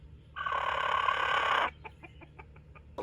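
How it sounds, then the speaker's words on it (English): A rooster sounds a loud, sustained alarm call on sighting a cat, a harsh drawn-out squawk lasting over a second, then a quick series of sharp clucking pulses close by. "when my roosters first see one of my cats come into view, they'll make this call"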